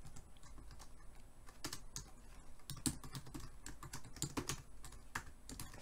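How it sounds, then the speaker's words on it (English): Numbers being typed on a computer keyboard during Java programming: a close, irregular run of crisp key clicks with short pauses between bursts. "okay for this panel I'm gonna type 150 450 50."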